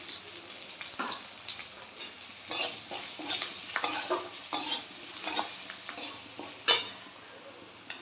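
Hilsa fish head stir-fried with turmeric and salt for a taro-leaf dish, sizzling steadily in the pan while a spatula scrapes and stirs in irregular bursts, close and fairly loud with no talking.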